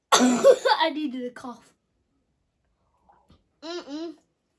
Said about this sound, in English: I needed a cough